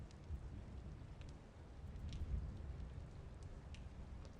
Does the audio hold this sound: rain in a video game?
yes